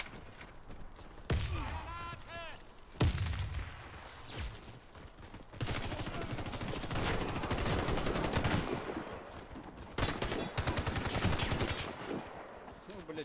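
Rapid gunfire bursts from the video game Warface during a clan match, sharp automatic volleys starting and stopping repeatedly, loud and close, with shouted voices between shots.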